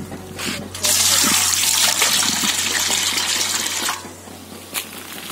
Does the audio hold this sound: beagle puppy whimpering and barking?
no